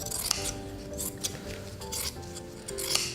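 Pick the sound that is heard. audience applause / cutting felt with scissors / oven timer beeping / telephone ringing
cutting felt with scissors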